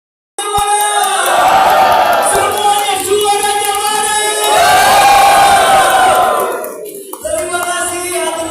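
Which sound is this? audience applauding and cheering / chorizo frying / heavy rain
audience applauding and cheering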